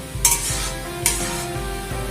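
Fried langcha sweets made with milk and sweet potato drop into hot sugar syrup, giving two sharp hissing bursts about a second apart over a steady low bubbling, close by.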